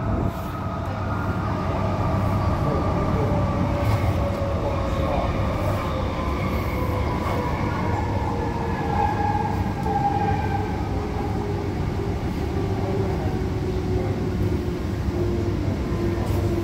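A Perth suburban electric train on the Midland line runs steadily with a continuous loud rumble, whining tones gliding slowly downward as it moves, with faint rail squeal throughout and no talking.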